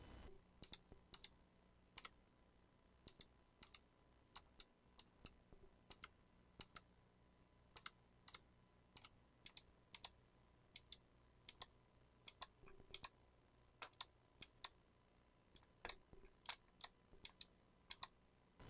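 Sharp, rapid drag clicks with poor technique on a gaming mouse, in irregular bursts, close up, with quiet gaps between clusters and no voices.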